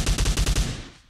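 Rapid automatic gunfire in an online shooter game, about six evenly spaced loud bursts in one quick string that fades out, with no talk over it.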